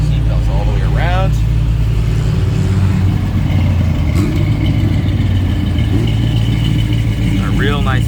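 A 1966 Chevrolet Nova SS restomod with a 355 V8 runs steadily nearby, a loud continuous engine drone with someone talking over it.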